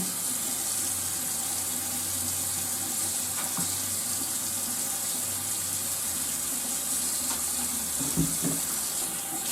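Water trickling from a bottle onto a face during a morning face wash, a steady close splashing flow that runs throughout with faint handling sounds.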